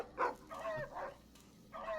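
A dog in a video game lets out a few short barks and yips, close and moderately loud, spaced out over a couple of seconds with brief whimpering tones between them.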